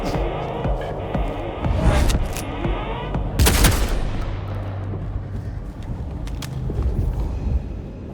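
Gunfire in the game Vampire: The Masquerade - Bloodlines 2 cracks out in a couple of loud close shots over a dense, rumbling combat background, with scattered sharp bangs and steady low noise throughout.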